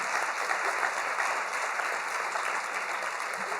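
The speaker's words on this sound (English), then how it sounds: "I want you to give a big round of applause to Stephanie Hassler" An audience at a museum performance event applauds steadily, a dense wash of clapping from many hands that runs throughout at an even, moderate level.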